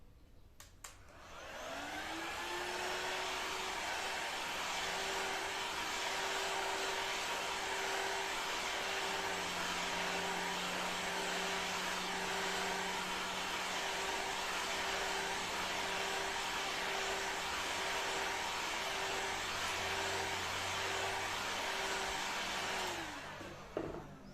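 A hot-air blower runs for about twenty seconds, heating the rubber-plastic ring of a 12-inch subwoofer speaker, spinning up to a steady loud whooshing drone with a high whine, then winding down.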